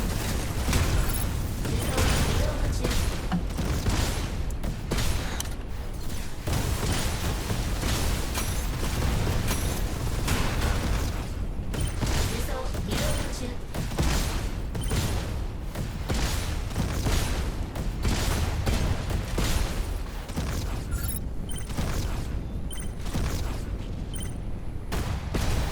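Continuous dense barrage of explosions from big rockets in a giant robot video game, loud booms and crackling blasts overlapping without pause throughout.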